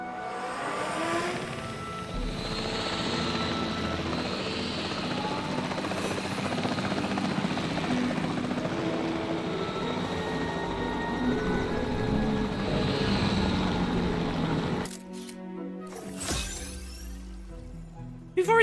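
Helicopter in the video game Jurassic World Evolution 3, a steady rotor and engine drone holding loud for about fifteen seconds before cutting out abruptly, followed by brief clicks and softer noise.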